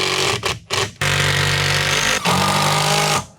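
A power driver drives a 65 mm chipboard screw into timber during tiny home construction, its motor whining loudly and close in several bursts: two short pulses, a long run, then a final sustained drive.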